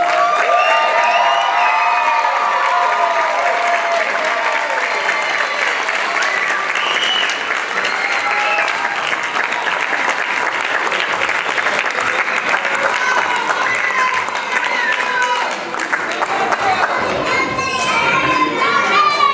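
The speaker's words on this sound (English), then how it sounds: "Let's hear a big round of applause" Loud, sustained applause from a large crowd at a HiSET graduation ceremony, steady clapping with scattered cheers and children's shouts mixed in throughout.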